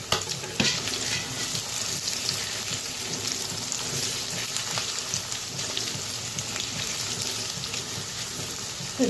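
Potatoes fry in hot oil with dried red chilli and bay leaves, a steady close sizzle and crackle running throughout with occasional stirring.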